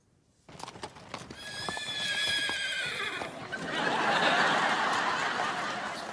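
A horse pulls a wagon, giving a loud, drawn-out whinny with rising harmonic cries, followed by steady clip-clop hoofbeats and a broad rumble of rolling wheels and movement.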